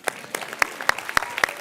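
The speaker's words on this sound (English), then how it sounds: "Yes, you want to clap?" Scattered claps at a campus graduation ceremony, a handful of separate sharp hand claps at a roughly steady pace, spaced and sparse rather than full applause.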